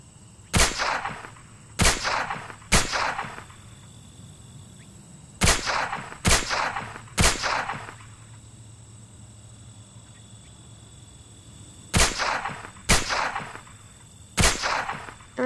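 Gunshots in a video game ring out in sharp bursts of two or three, repeated at irregular intervals over a faint steady background hum, with no talking.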